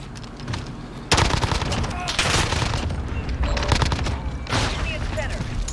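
Rapid automatic gunfire from a fast-firing gun in a multiplayer shooter game, dense bursts of close, loud shots running almost nonstop with brief gaps, set over a low background bed.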